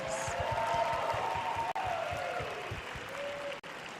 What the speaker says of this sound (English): Let's give all the contestants another big round of applause.